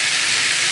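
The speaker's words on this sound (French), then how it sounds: "on prend nos pâtes, et on les jette dedans. C'est un peu vif." Chinese noodles dropped into a hot pan give a brief, steady, loud hiss of frying with no voices.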